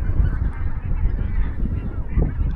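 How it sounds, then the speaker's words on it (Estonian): A large flock of geese honks overhead during a calm fishing outing, many overlapping calls in a continuous murmuring chorus that sounds somewhat distant and muffled, without speech. "Haneparv jälle."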